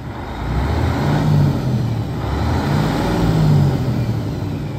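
A 2007 Freightliner M2 pre-emissions diesel truck with an exhaust brake idles steadily, a deep low rumble holding at a near and moderately loud level with slight swells, and no voices.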